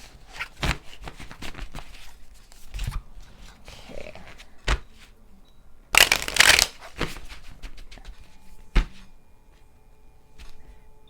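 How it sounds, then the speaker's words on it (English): A deck of tarot or oracle cards is shuffled by hand in quick, close riffling bursts at irregular intervals, with quiet gaps between and no speech. "Spirit wants me to shuffle"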